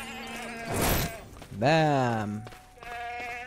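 A goat in the LEGO Worlds video game gives one drawn-out, wavering bleat right after a sharp burst of noise, and someone speaks briefly in German around it.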